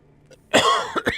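A streamer coughs at close range, one harsh burst followed by two shorter coughs, after a brief near-silent pause.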